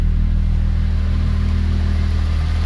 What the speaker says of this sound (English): the gearbox has got a bit of a clatter